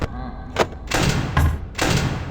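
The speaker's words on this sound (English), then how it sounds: "Once you see him at the door, all you need to do is shut it, you'll hear a thud" Heavy thuds of a door shutting in the video game Ultimate Custom Night, a short sharp knock followed by three louder, fuller thumps in quick succession, fairly close and with no talk.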